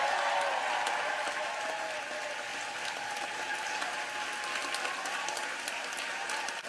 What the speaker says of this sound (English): A ruckus applause there.